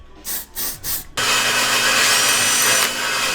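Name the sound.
drilling metal with a power drill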